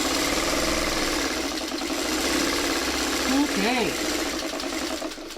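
A sewing machine stitches a simple chain quilt pattern with the needle left down mid-seam, running as a steady continuous whir throughout, with a brief spoken word partway through.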